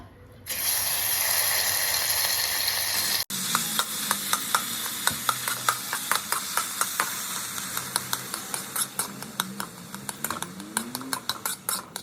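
Chhana cooking in a little ghee in a pan for patishapta pitha filling, starting with a steady hiss, then a spatula scraping and tapping the pan in a fast, even rhythm over a soft sizzle.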